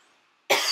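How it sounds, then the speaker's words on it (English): A single abrupt, loud cough bursts out close to the microphone after a near-silent pause, lasting a fraction of a second. "Sorry, I need to cough."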